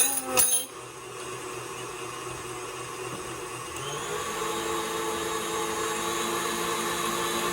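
Electric hand mixer whirring steadily as it beats chocolate cake batter, a loud continuous motor drone that starts after a brief clatter and holds alone without talk.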